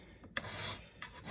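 A MoraKniv knife edge being sharpened, two or three short, close, rasping strokes of blade scraping across an abrasive surface with no talking.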